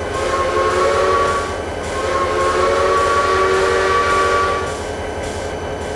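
A steam train whistle sounds in long sustained tones, with the steady rumble of a moving train beneath it, loud and close throughout.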